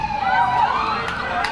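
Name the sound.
emergency vehicle sirens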